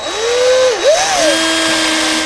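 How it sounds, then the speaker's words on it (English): A power drill whines steadily while drilling a 1/16-inch pilot hole, its pitch dipping briefly as it bites into material and then rising again; close and alone. "We're drilling a 1/16 inch pilot hole."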